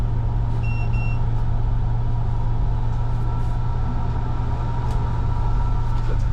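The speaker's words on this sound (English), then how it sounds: "Now see, you can hear that gear case kick in and out." Low-RPM idle of the inboard engine on a 2022 Hewes 270 Pacific Explorer boat, a steady droning rumble with a constant low hum, close and loud, with a short electronic beep near the start.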